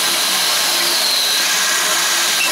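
A power drill runs steadily throughout, a continuous loud whine that holds for the whole stretch without pause or talk, heard during a DIY upgrade of a cheap BBQ grill.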